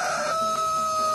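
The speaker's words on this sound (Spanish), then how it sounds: "Lo canta un gallo." A rooster crows in one long, loud, sustained cock-a-doodle-doo heard alone, opening a Spanish-language news program.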